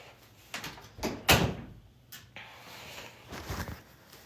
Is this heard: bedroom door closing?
yes